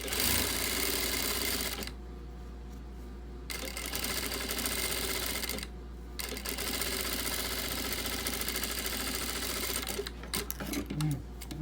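Sewing machine stitching the end of a fabric strap for a small romantic cosmetic bag, in steady close mechanical runs broken by two short pauses, with a quick stop-start burst near the end.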